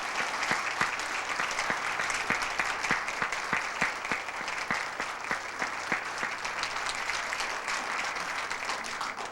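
Sustained applause from an audience greeting speaker Bernie Yoh as he takes the stand, dense steady clapping at moderate level with a few sharper individual claps, no talking over it.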